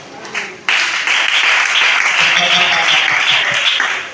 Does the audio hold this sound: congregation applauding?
yes